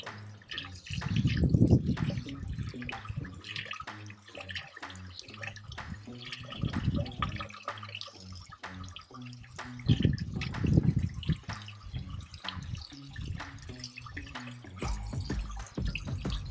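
Water runs and drips over a car air filter being rinsed clean, splashing in irregular bursts that swell and fade, close by and fairly quiet, with no talk.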